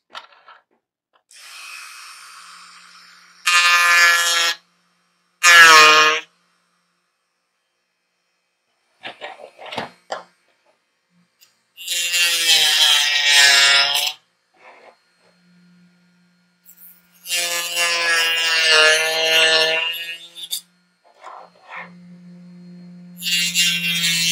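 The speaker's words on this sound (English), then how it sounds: "I actually might go back in with the Dremel here, just very carefully get the corners" A Dremel rotary tool trimming the corners of an ARC trooper armor piece, heard as several short, high whining bursts separated by silences, close and fairly loud, with a faint hum in the background.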